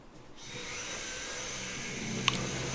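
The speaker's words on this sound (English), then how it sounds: "apologies for the vacuum in the background" A vacuum cleaner drones steadily in the background, a continuous whirring hum that swells in after a brief quiet start and holds level, with a faint click near the end.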